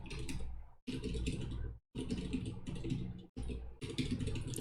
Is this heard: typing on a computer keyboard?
yes